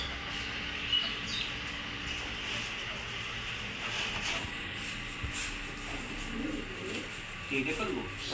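Domestic pigeons coo softly and repeatedly in a home loft where chicks have just hatched from their eggs, set against steady background noise and occasional muffled voices.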